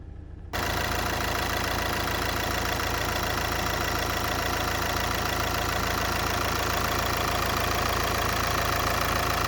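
A 2014 VW Passat TDI diesel engine starts and settles into a loud, steady idle with a rough knocking rumble, continuous and close.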